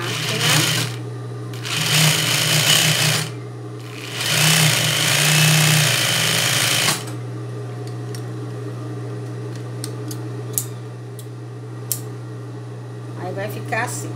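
A sewing machine stitches a rolled hem along the edge of a piece of fabric, running in three loud bursts of steady mechanical whir with short pauses between them, then stopping, leaving a low hum and faint handling sounds.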